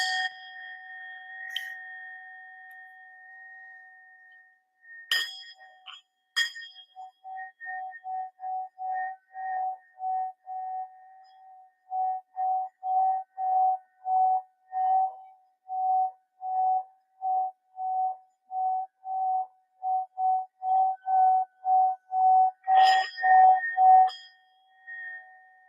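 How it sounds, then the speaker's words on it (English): A bell or singing-bowl-style chime is struck repeatedly to clear energy: a few sharp strikes, then a long run of steady rhythmic ringing pulses sustaining a clear tone, building louder near the end, with no talk. "We're going to start with a little bit of the bell today, just to clear the energy a little."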